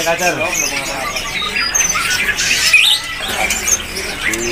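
Oriental magpie-robins (kacer) call at a bird-selling stall that holds about fifty birds. Their bright chirps and squawks repeat over steady background noise.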